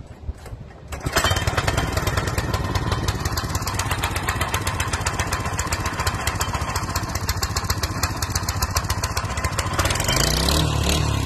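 A small petrol engine fires up after a second of near quiet and settles into a loud, steady, rattling run close by, continuing to the end.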